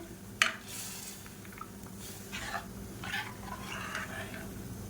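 Rasam stirred in a pot, a sharp metal clink followed by soft, scattered scraping and sloshing of a spoon against the vessel, close and quiet with no talk.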